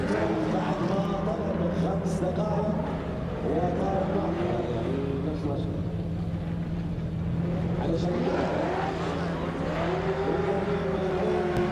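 Engine of a drift car at a drift championship in Oman rises and falls in repeated revving sweeps from some distance, steady and loud, under continuous commentary.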